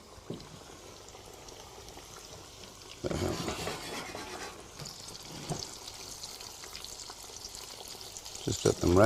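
Breaded plaice fish fingers lowered into hot oil, which breaks into a loud, steady sizzle that carries on, with a few soft clinks near the end.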